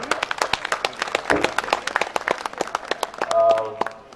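Audience clapping at a school annual function, a dense spread of overlapping claps filling the hall at steady loudness, with a faint voice or tone near the end.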